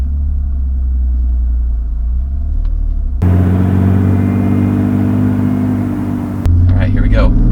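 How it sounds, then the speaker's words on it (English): A car engine idles with a low rumble, then bursts into a loud, sustained roar as the clutch is popped in first gear and the tires spin for about three seconds, before the engine settles back into a rough, revving note. "The first thing I'm gonna do is just rip it in first gear with the clutch in, pop the clutch, and then try to keep a spin going."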